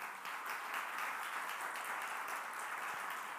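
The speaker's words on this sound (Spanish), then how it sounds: "Dale un aplauso fuerte a tu Señor." Congregation clapping during a church service, a steady wash of applause heard from a distance and fairly faint throughout.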